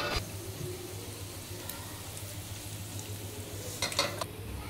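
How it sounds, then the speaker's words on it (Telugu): A spoon stirs browned onion tempering into a bowl of yogurt for a brinjal yogurt dish, giving a soft, steady scraping swirl with a faint sizzle, plus a brief clink of cutlery near the end. "తాలింపును వేసుకున్నాక బాగా మిక్స్ చేసుకోవాలి"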